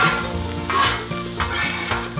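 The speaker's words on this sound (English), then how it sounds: "We're gonna cover these peppers and onions up here in just a minute." Peppers and onions fry on a Blackstone griddle beside sausages, giving a bright sizzle broken by scraping spatula strokes and light clinks, close and clear with no talk.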